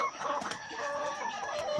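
Laying hens cluck and murmur softly in a short, busy stretch, a little distant, with chatter from several birds overlapping.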